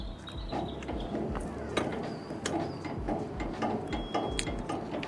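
A trailer tongue jack is unwound by its handle, making a continuous grinding, ratcheting mechanical rattle with regular clicks, close and fairly loud, with no talking.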